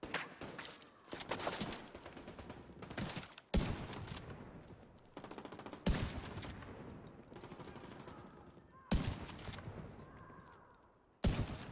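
Rapid automatic gunfire in the shooter game The Division 2, in repeated bursts with sharp onsets and decaying rattles between, fairly close.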